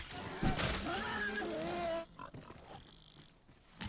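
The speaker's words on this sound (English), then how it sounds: "Oh, there's a piggy." A pig oinks and grunts in Dragon's Dogma 2, a short burst of snorting calls near and fairly loud over game ambience, then quieter background sounds follow.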